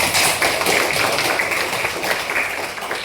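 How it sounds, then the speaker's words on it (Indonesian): Classroom students clapping for a classmate, a brisk, close burst of hand claps at steady strength that tapers slightly toward the end. "Tepuk buat Fadila"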